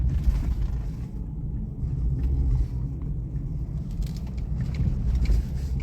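A 2009 Nissan Murano SL AWD with a CVT drives on a test run, heard from inside as a steady low engine and road rumble at moderate speed, with no talking.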